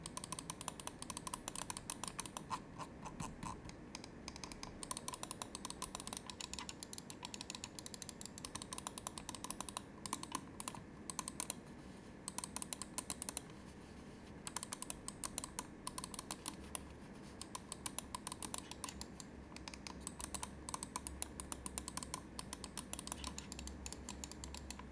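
Rapid, continuous clicking of a Pulsar X2 gaming mouse scroll wheel with a dust-resistant TTC Gold encoder, fine ratcheting ticks running steadily for the whole stretch with brief pauses, close up and unaccompanied.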